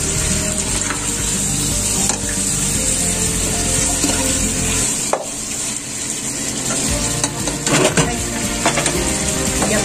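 A chicken dish sizzling and frying in a pan as a little water is poured in, the hiss swelling and dipping with stirring and scraping, close and fairly loud.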